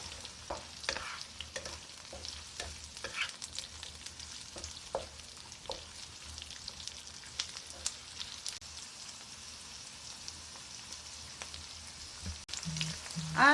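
Onion frying and being stirred in a pan for a spicy sweet baby octopus stir-fry, a steady close sizzle with repeated scraping stir strokes throughout, no talking.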